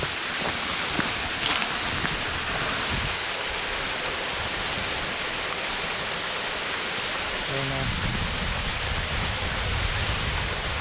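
Victoria Falls in the Blue Mountains roars nearby in a dense, unbroken wash of falling water that stays at a constant strong level throughout.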